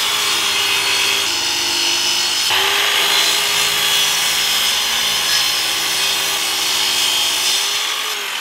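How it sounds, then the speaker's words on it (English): A steady saw rasps through the edges of a birch plywood disc without pause, a continuous buzzy cutting sound close by, shifting slightly in pitch as the blade works along the edge. "began to cut the edges to make the sanding easier"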